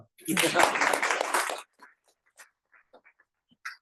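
An audience at a Jain religious talk in Cary, North Carolina bursts into applause for the food team, a dense round of clapping lasting about a second and a half before it thins to a few scattered claps.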